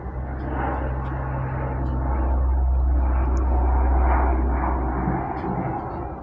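An airplane passes overhead outdoors, a low, broad engine rumble that swells toward the middle and then fades. Faint background sounds sit under it, and no one speaks.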